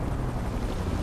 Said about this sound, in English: Chopper on the scene, control.